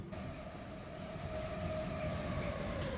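A steady rumbling train engine in Transport Fever 2 with a sustained tonal hum, running continuously at speed and fairly quiet, with no voices.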